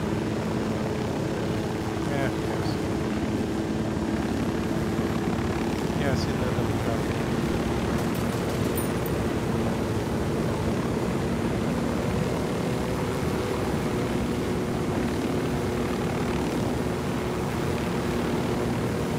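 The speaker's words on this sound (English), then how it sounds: "There's a chopper up there." A helicopter in the video game Ghost Recon Wildlands drones steadily overhead, a continuous rotor and engine hum that holds at an even level throughout while people talk over it.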